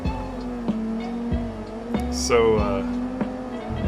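A car in the Assetto Corsa racing game drives a drift track, its engine a steady sustained drone with a brief rising tire squeal midway, loud and continuous, under a speaking voice.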